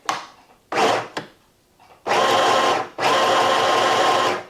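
A sewing machine stitches a fabric drawstring bag. It runs loud and close in short bursts, then stops and starts again into two long, steady whirring runs.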